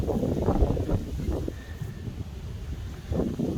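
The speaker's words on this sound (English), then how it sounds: "Sorry about the wind, it's a bit windy today." Gusty wind buffets the microphone in uneven low rumbles, easing briefly in the middle before picking up again.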